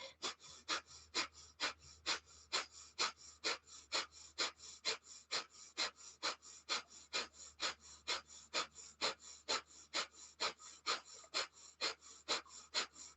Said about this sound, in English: Belly pumps, belly pumps. We build up the fire as we're synchronizing the breath.